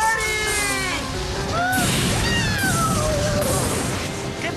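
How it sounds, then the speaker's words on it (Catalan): An animated cat lets out a series of drawn-out, wavering meows over a loud, noisy backdrop of cartoon effects and music, several calls rising and falling one after another. "Un gat?"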